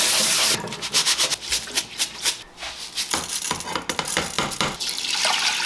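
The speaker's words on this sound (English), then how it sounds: "I am going to rinse my brown rice" Brown rice rinsed under running water in a sink, with a steady wash of splashing and trickling broken by sloshing stirs and grain swishing, close and fairly loud throughout.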